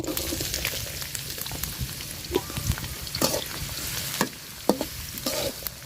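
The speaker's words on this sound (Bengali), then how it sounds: "পেঁয়াজটা আমি লাল লাল করে ভাজা নিচ্ছি।" Chopped onions fry in plenty of hot oil in a pan, giving a loud, dense, close-up sizzle with occasional sharp crackles and stirring knocks.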